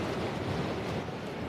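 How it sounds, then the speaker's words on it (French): Steady, loud wind roar buffets the microphone while riding a 2017 Triumph Speed Triple 1050 motorcycle at over 100 km/h, a continuous broad rush with no speech over it. "On a une prise de vent qui est présente, mais modérée, même à plus de 100 km/h."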